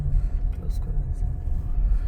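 A car rolling along a cold park road on Belle Isle in Detroit makes a low, continuous engine and tyre rumble heard from inside, steady throughout.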